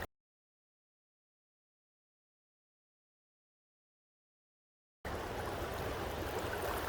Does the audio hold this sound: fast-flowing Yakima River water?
yes